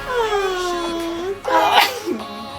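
A single sneeze from a young girl at home, close and sharp near the middle, framed by whimpery, sing-song child vocalizing before and a short voiced sound after.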